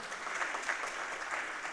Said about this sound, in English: Can we hear a round of applause?